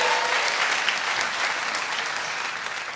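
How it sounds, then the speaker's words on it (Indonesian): A stand-up comedy audience breaks into loud, sustained applause that slowly tapers over a few seconds, dense clapping from a full room with no speech over it. "Tepuk tangan untuk Kongguan."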